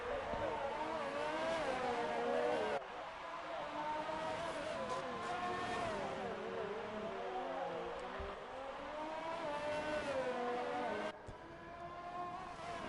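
A Renault Formula race car in a racing video game at the Canadian Grand Prix whines at high revs, its pitch rising and falling through gear changes, while a commentator talks over it.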